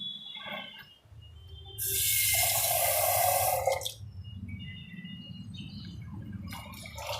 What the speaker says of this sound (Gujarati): હવે એમાં આપણે પાણી નાખશું પાણી થોડુંક વધારે નાખવાનું